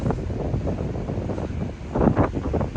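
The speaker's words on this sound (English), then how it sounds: "It's windy, so I don't know if you can hear me." Wind buffeting a microphone on a hilltop above a lagoon, a loud, low rumbling roar that rises and falls in gusts for the whole short stretch.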